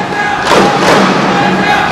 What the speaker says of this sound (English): The crowd making some noise here for Hafiz Hashim.